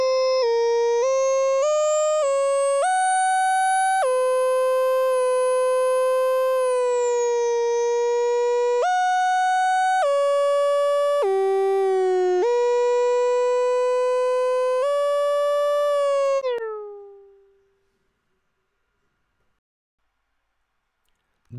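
A bright, pure-toned synthesizer melody with longer decay, sustain and release steps through a series of held notes. It plays loud and clean with no voice, then the last note rings out and fades smoothly to silence.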